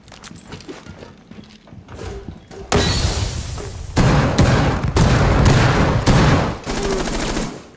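Heavy, loud bursts of gunfire from Buck's gun in Rainbow Six Siege, starting as scattered quieter shots and then rising into dense, sustained volleys of rapid shots that keep going until near the end.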